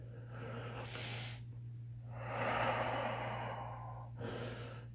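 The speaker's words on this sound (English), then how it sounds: "Hisashi stops to catch his breath" Heavy, ragged breaths from a person catching their breath: several long, hissing inhales and exhales, close and fairly loud, separated by short pauses.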